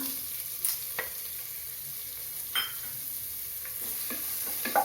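Chopped onions sautéing in a pan for mutton curry, a soft steady sizzle with a few sharp spoon scrapes and stirring clicks spread through, close by and with no voices.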